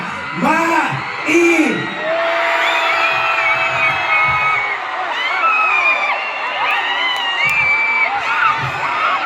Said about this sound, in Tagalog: Sumigaw kayo, sumigaw kayo.